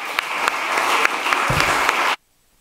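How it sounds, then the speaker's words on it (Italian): An audience claps after a talk on participation, a loud, dense burst of applause with scattered sharp claps that runs steadily for about two seconds and then cuts off abruptly into silence. "L'applauso è per ciò che hai detto"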